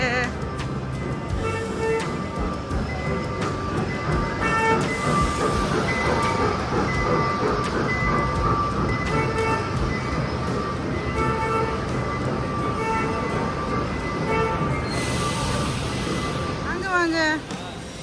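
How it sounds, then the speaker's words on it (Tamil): A small toy train ride at a resort rolls along with a steady rumble and rhythmic clatter, voices chattering over it throughout. "அகரன் வந்து இன்னைக்கு கூச்சு கூச்சு வண்டி ட்ரெயின் வண்டியில் போக போகிறாரு"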